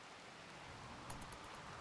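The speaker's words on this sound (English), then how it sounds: "Now it's raining? Toxic fallout rain?" Toxic fallout rain falls in the colony sim RimWorld as a steady, even hiss of rainfall, with a few faint clicks near the end.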